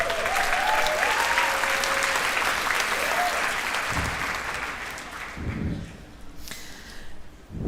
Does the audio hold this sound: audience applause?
yes